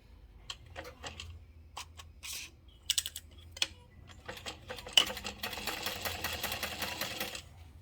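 Sewing machine stitching a seam on a travel bag, with a zipper folded under and a 1/4-inch seam allowance. It runs in short stop-start bursts of rapid mechanical clatter, then settles into a longer steady run, close and alone.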